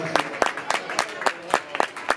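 A concert audience claps in a steady, rhythmic beat, sharp hand claps repeating about four times a second at a moderate distance within a live show.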